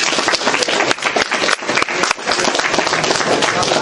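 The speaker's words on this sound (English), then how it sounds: "Round of applause." An audience at a final presentations session claps loudly and steadily, a dense close burst of applause lasting several seconds.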